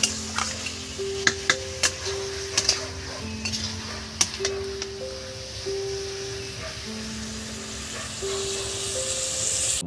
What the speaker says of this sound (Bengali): মটনটা কষে নিয়েছি মশলার সঙ্গে